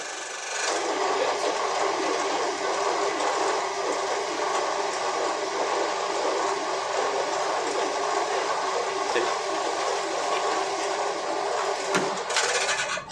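A horizontal bandsaw runs continuously and loudly, its blade cutting steadily through the workpiece as it is slowly lowered, with a brief clank near the end and no talking.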